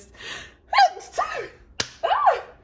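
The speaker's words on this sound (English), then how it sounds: "I was gonna say I'm gonna sneeze, but there we go. There's my sneeze." A single close sneeze with a sharp intake and burst, surrounded by brief breathy vocal sounds.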